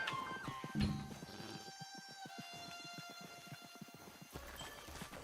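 Rhythmic clip-clop of horse hooves with a loud whinny early on, set over a soft tonal backdrop of game music in Red Dead Online.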